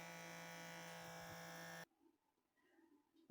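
A small vacuum pump draws air out of a jar of Crisco shortening, giving a steady thin electric buzz that cuts off abruptly, leaving near silence before a brief sharp noise at the end.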